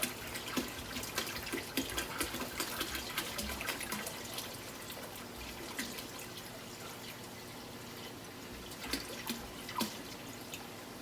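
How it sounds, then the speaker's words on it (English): Water trickles and drips steadily into an aquarium sump while the level rises, a continuous close splashing with scattered droplet ticks and no voices. "let's go ahead and pour water in there."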